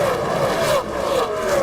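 Race cars wreck into the wall during a stock car race, a loud continuous roar of engines and tires with a dip partway through, heard over crowd and track noise.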